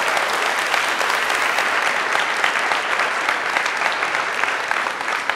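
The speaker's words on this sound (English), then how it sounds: "and I want to thank Tasha, if you can give her a round of applause for doing that." An audience at a Fresno State keynote address gives steady, sustained applause that fills the whole stretch at an even, fairly loud level with no break.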